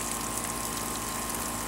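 A Wave Raider personal watercraft pumps and shoots out water, a steady, continuous gushing rush with a faint underlying hum that holds even throughout, with no talking.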